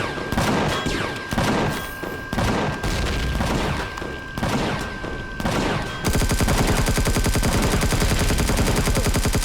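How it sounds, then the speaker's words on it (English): Rapid bursts of enemy gunfire in the space game Empyrion, volleys of sharp shots in clusters, then a dense continuous machine-gun-like stream, loud and up close with no talk over it. "they're firing at me now"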